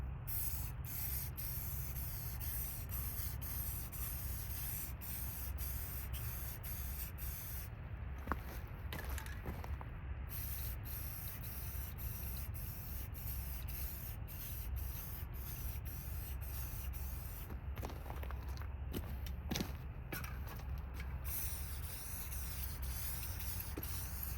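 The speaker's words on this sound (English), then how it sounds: "Now all we're going to do is hit it real gently with some black paint." Aerosol can spraying black paint in short, gentle bursts onto an automotive harmonic balancer; a steady close hiss runs throughout with brief breaks between passes and no talking.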